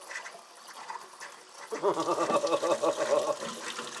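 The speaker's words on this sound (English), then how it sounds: "Some brown water came out of that faucet" Brown water sputters and gurgles out of a faucet, starting abruptly partway through and running moderately close after quiet room tone, with one brief spoken word.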